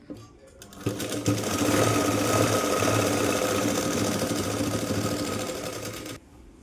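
Sewing machine stitching the side seam of a blouse, a continuous rapid mechanical whirr running for about five seconds, close and steady, starting and stopping abruptly.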